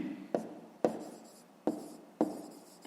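Handwriting on paper is heard close and quiet, as four short pen strokes in a steady rhythm, each beginning with a light tap and fading out.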